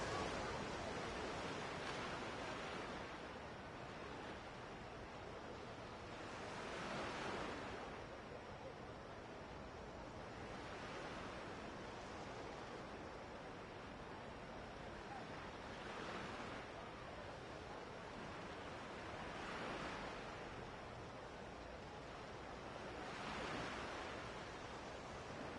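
Ocean waves surge and break in a steady rolling rhythm in the Infinite Wealth video game, a broad wash of surf that swells every few seconds and stays loud and continuous throughout with no voices.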